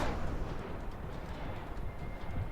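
Explosion and chaotic gunfire-like rumble in the video game Max Payne 3, a dense, continuous low roar filling the clip with no pauses.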